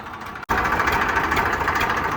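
A Swaraj 855 tractor's diesel engine idles close by with a steady low rumble and vibration, broken by one brief dropout just before it runs on evenly.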